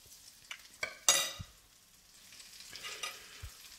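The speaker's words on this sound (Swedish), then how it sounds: "Nu ska vi ta och steka alla de här köttbullarna." Homemade meatballs fry in a pan, giving a quiet sizzle with a few sharp clinks and scrapes of a utensil stirring and turning them, spaced bursts over a soft background.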